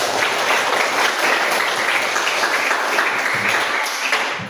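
Classroom applause from students after group presentations in a school guidance session, a continuous, fairly loud patter of many hands that holds steady and starts to fade at the end.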